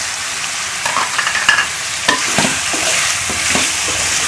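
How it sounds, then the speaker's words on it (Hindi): Spices and potatoes fry in a pan for a spiced Pakistani potato dish, giving a steady close sizzle broken by scraping stirs and clinks of a spoon against the pan. "इसको भून लेंगे"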